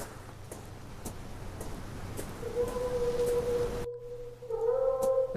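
Cat meowing in the video game The Last Door: drawn-out, wavering tonal meows rise over a quiet low hum, then a second, stronger cry follows after a brief silence.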